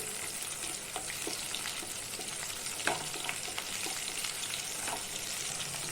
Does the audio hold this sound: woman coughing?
no